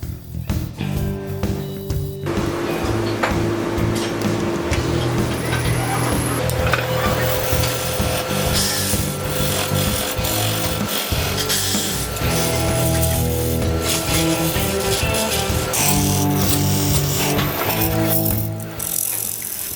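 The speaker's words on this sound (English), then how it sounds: "resin doesn't really like a bowl gouge, but it likes a flat scraper, gives a nice smooth surface" A flat scraper works a resin and white oak bowl spinning on a wood lathe, giving a steady, continuous rasping and scraping drone with the machine's hum underneath, close and loud throughout, with no talking.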